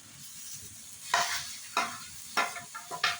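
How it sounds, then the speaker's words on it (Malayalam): Crushed ginger, garlic, curry leaves, green chillies and onion sauté in a pan, with bursts of sizzle as the mix is stirred, several distinct scraping swishes over a low frying hiss. "അതേലേക്ക് ഞാൻ ചതച്ച ഇഞ്ചിയും വെളുത്തുള്ളിയും കറിവേപ്പിലയും മുളകൊക്കെ കൂടുതലത് കൊടുക്കുന്നുണ്ട് ഉള്ളിയും അതിന്റെ കൂടെ തന്നെ ഇട്ട് കൊടുക്കാം"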